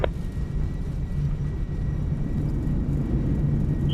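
An A320 in a flight simulator takes off from Dublin runway 10 left, a constant low engine rumble with a faint steady whine, no speech over it.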